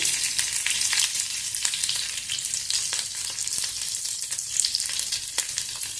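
Cumin, mustard seeds, curry leaves and green chillies sizzle steadily in hot oil for an oats upma, a dense, even crackle with scattered sharper pops and occasional stirring, close and unbroken by talk.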